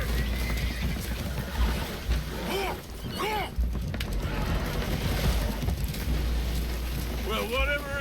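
Spooked horses whinny and neigh in a video game scene aboard a boat that is taking on water, several rising whinnies over a steady wind-like rumble, with voices talking throughout.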